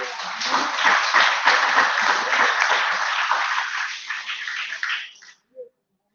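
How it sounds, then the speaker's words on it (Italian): Steady applause from an audience at an Italian awards ceremony, dense clapping that holds for about five seconds before tapering off and stopping. "Un applauso, grazie."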